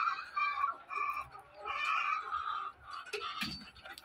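White egg-laying hens on a layer farm in Pakistan cluck and murmur softly in short, uneven bursts, a few calls rising louder near the end, with faint background noise.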